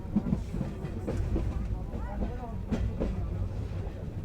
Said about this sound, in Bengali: আস্তে ধীরে ট্রেন যাওয়া শুরু হইলো